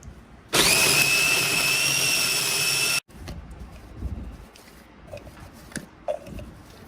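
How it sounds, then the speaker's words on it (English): Electric food chopper whirring loudly for about two and a half seconds as it chops onions, cilantro, green onions and ginger, then stopping abruptly, followed by softer clatter and handling noises. "My first half of this recipe is onions, cilantro, green onions, and ginger in this chopper. So we're going to chop this really well."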